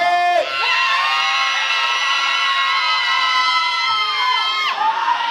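A crowd of children shouting together at full volume in a loudness contest, one long sustained loud cheer close by with no pauses.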